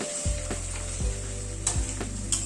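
Mutton is stirred and sautéed in a pan after hot water is added, with a loud continuous sizzle and a few soft thumps from the stirring.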